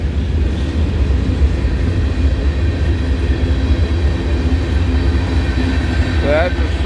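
A CP freight train hauled by three locomotives rumbles past in hilly country, a steady loud low roar with continuous rolling noise and a brief rising tone near the end.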